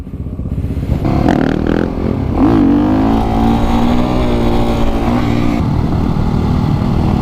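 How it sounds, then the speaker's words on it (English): Supermoto motorcycle riding a slow, controlled wheelie with no front brake, its engine droning loud and close, pitch rising and falling with the throttle through the run. "Nice, slow, controlled wheelie action with no front brake."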